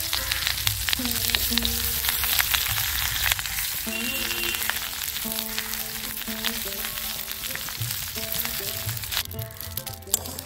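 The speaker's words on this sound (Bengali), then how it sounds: "পাতুরিগুলো এতে আমি দিয়ে দিচ্ছি, একদম লো আছে, হালকা হালকা করে এগুলো ভাজা হবে" Prawn paturi parcels frying gently in mustard oil on low heat, giving a steady close crackle and sizzle with occasional pops and light scraping, with faint tonal background music underneath.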